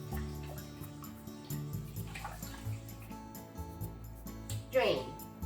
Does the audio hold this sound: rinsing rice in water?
yes